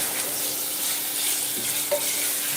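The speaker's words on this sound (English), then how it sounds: "I'm gonna stir it thoroughly" Tomato and pepper sauce with tuna being stirred in a pan, a constant broad sizzling hiss with a couple of faint scrapes, no talking.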